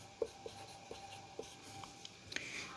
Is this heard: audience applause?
no